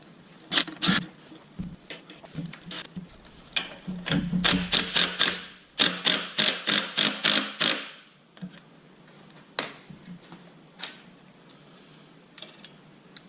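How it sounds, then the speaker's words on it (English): Valve springs on a V8 cylinder head being compressed and released with a valve spring tool, giving irregular metallic clicks and snaps, a rapid burst of ratcheting clacks in the middle, close and alone. "this is a very useful tool to be able to remove all these valve springs and keep valve locks and retainers without damaging any of them"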